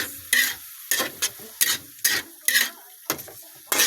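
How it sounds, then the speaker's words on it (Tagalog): Ingredients for adobong tarukog being stirred in a pan, giving a series of about eight distinct scraping stir strokes over a soft sizzle, close and fairly loud, with no talk. "Halo-haloin natin guys."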